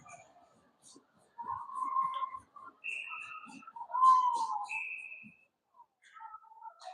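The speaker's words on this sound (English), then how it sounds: "There's a whistle." A referee's whistle at an ice hockey game sounds in a few sharp tonal blasts at moderate distance, standing out over a quiet arena background.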